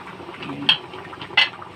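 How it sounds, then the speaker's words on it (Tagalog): Water bubbles and simmers softly in a pot of cooking okra, with a couple of sharper pops standing out over the low, gurgling boil. "Kumukulo na rin ang aking sinain."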